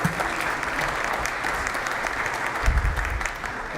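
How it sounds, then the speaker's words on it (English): A debate audience giving a sustained round of applause, with dense, even clapping from a large crowd that carries on steadily throughout. "Round of applause."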